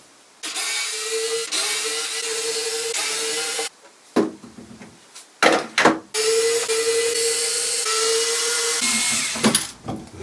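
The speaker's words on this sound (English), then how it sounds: "let's start with taking off the hinges" Power drill or screwdriver backing hinge screws out of an antique piano bench, several sustained whirring runs broken by short pauses and clicks, close and loud.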